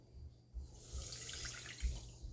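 Water pours into a pan on the stove as the base for a sugar syrup, giving a soft, steady splashing stream that swells, then eases off near the end. It is quiet and close.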